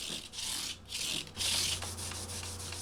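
Guitar frets on a maple neck are rubbed with maroon Scotch Brite abrasive and sandpaper in strokes close to the mic. The rasping rubs come in a few bursts, the last one longer and heavier, with no talking.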